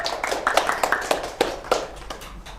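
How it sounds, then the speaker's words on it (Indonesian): Light, scattered clapping from a small audience at a stand-up comedy show in Lampung, a few hands patting unevenly for a couple of seconds at moderate distance. "Tepuk tangan"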